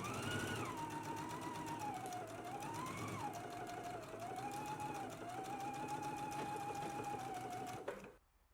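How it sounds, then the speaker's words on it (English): A sewing machine steadily stitches a sleeve seam at a 5/8 inch allowance, a continuous close mechanical whir with a rapid needle rhythm and a faint changing motor tone, then stopping abruptly near the end. "I'm going to stitch at a 5/8 of an inseam allowance"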